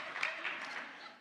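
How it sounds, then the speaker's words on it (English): Audience applause at an independent filmmaking panel, a steady, fairly quiet wash of clapping from the crowd lasting about a second with no speech over it. "Yeah, big applause."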